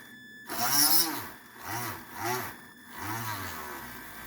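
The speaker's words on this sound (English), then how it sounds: "this is me applying pressure trying to get the drill bit to bite into the copper" A power drill whines and bogs down repeatedly as its bit grinds into copper, pitch dipping and rising in several uneven surges.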